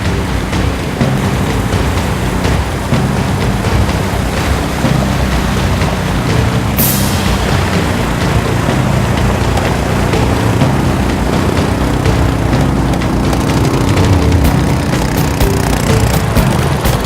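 An outboard boat engine drives a boat up river rapids, a loud steady droning roar mixed with rushing water that runs continuously throughout, with a brief hiss partway through.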